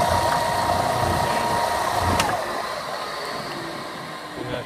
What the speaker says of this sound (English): open the blast gate for the sander, turn on the dust collector